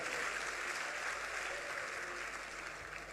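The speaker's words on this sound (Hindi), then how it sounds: "थोड़ा ताली बजा दीजिए, माहौल माहौल बना दीजिए।" Audience at a Kanpur Dehat festival comedy show claps in a sustained, even wash of applause heard from a distance, steady for the whole stretch with no individual voices standing out.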